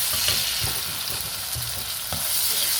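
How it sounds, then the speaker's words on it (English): Onions and peppers sizzle loudly in a pan while being stirred, a dense continuous frying hiss broken by several low scraping knocks of the spoon. "That's the onions and pepper. Put them together and then stir."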